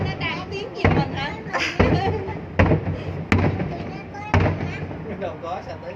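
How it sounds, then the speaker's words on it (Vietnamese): Large fireworks burst during a New Year's Eve 2024 display at Ninh Kieu, Can Tho, with about five heavy booming thuds spaced a second or so apart, while a crowd and children chatter loudly nearby. "Đây chắc là cái quả pháo bự."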